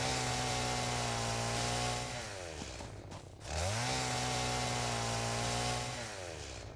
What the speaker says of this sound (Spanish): Con la motosierra pillas hasta piedra caliza.